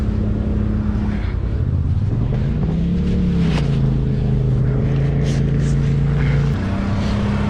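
Polaris RZR Turbo 1000 off-road vehicles racing, their engines droning loud and steady close by with rising and falling pitch as they accelerate, a continuous mechanical roar throughout.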